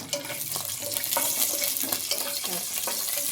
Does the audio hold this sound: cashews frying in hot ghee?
yes